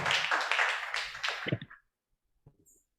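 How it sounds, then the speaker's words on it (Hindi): Clapping for a participant during an evening church fellowship, a close burst of hand claps lasting under two seconds that stops abruptly, followed by near silence and a faint tap. "तालियां तालियां विशाल के लिए।"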